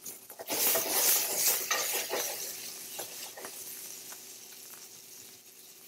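Tomato paste and vegetables caramelizing in a cast iron skillet, a close sizzle mixed with scraping stirring and utensil clinks, loudest early and easing off.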